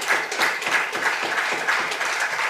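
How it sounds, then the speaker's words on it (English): Audience applause at a public address, with the Lord Mayor among those clapping; steady, moderately loud rhythmic claps from a crowd filling the whole moment without pause. "I can see the Lord Mayor clapping."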